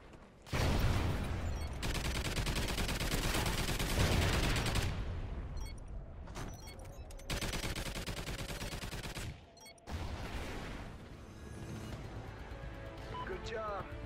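Gunfire in a Call of Duty match, with a deployed sentry gun firing rapid sustained bursts. Loud dense volleys fill most of the stretch, broken by brief gaps, with game voice lines mixed in.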